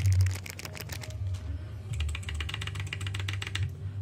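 A keyboard fitted with unbranded Chinese clicky blue switches is typed on up close, producing loud bursts of crisp, rapid clicks in two runs separated by a brief pause, over a low hum.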